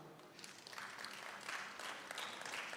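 Faint, steady clapping from an audience at a Sacco annual general meeting, applauding the committee members, a soft continuous patter that holds evenly for the whole stretch.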